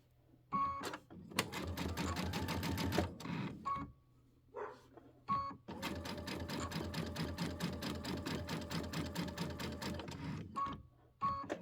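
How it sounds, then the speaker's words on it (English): A sewing machine stitches a Christmas quilt in several bursts of fast, rapid needle clatter, close and loud, with brief pauses between runs. "I'm going to sew down and then down and off."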